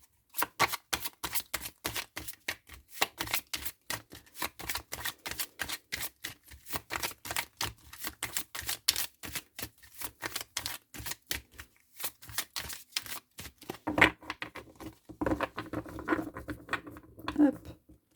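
Tarot cards are shuffled in quick, dense riffling clicks that patter on steadily for about fourteen seconds, then give way to softer, scattered card handling and rustling near the end.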